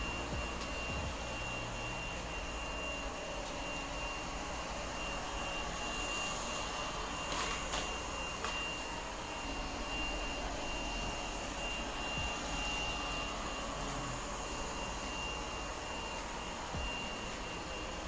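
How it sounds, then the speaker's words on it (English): A Lefant U180 robot vacuum and mop runs steadily, sucking up dog hair as it passes back and forth, producing a continuous even whirring drone with a faint high whine and no voices. "it sucked up all of this dog hair going back and forth several times"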